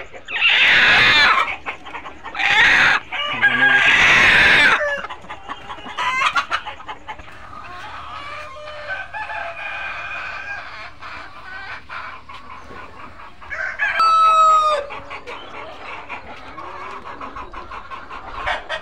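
Tiger hens on a poultry farm cluck and squawk loudly in several bursts near the start, then softer clucks continue over a steady barn hum, with another sharp call near the end.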